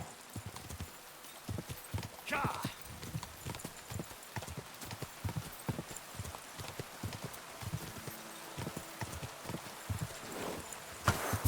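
A ridden horse in the video game Kingdom Come Deliverance II clip-clops along in a steady walking rhythm of close, clear hoof strikes, with a brief whinny and faint rustling between steps.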